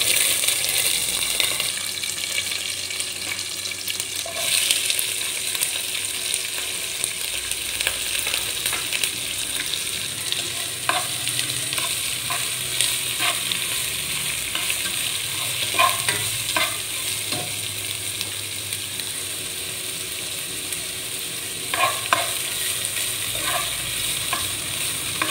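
Sliced onions and green chilies frying with cinnamon, cloves, cardamom, fennel and peppercorns, a steady sizzle over which a utensil stirs and scrapes in intermittent bursts, no speech.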